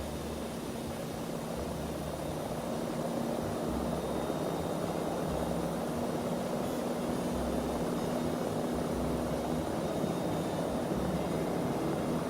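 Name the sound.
aircraft engines with thrust reversers in a flight simulator video game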